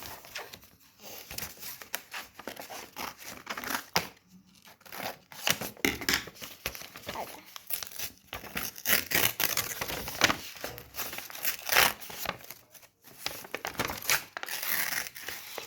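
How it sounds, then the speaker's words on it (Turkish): A plastic card pack wrapper being torn open by hand, giving steady crinkling and ripping bursts that come in uneven waves with short pauses, close and fairly loud throughout. "Fermuar gelmedi ama biz yırttık üzerine."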